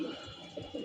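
Pigeons on a rooftop coo softly in a few low, rounded pulses, faint and close, with no voices over them.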